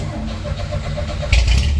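A Chevrolet S10 truck engine cranks and fires up close by, a sudden loud low rumble breaking in near the end over a steady background hum.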